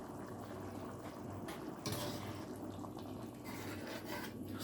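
Yellow rice with pigeon peas, Puerto Rican arroz con gandules, boiling in a pot, a steady soft bubbling and sizzling hiss that stays low and even, with occasional brighter crackles.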